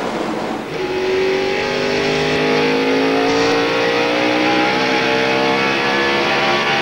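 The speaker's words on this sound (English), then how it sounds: "when he backs off the throttle, that's just a little bit of backfiring" A 2002 Busch Series race car with an exhaust leak at Indianapolis Raceway Park roars loudly and steadily, its engine pitch sweeping as it passes, with faint popping backfires as the driver lifts off the throttle.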